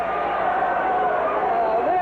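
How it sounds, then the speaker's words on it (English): Boisterous crowd in a high school basketball gym, a loud sustained roar of disapproval directed at a referee's over-the-back foul call, steady and dense throughout. "crowd does not like that call at all. They're very upset, as you can hear."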